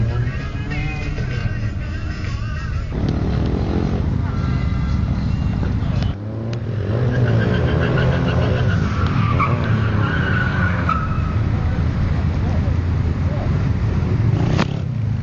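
A BMW drifting by a lakeside, tyres squealing loudly in long screeching bursts over a revving engine, with a brief break partway through and some talk in the background.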